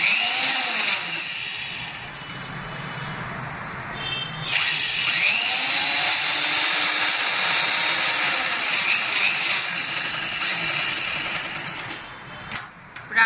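Sewing machine stitching double-folded fabric for a newborn's nappy, running as a steady close whir that pauses briefly around four seconds and again near the end.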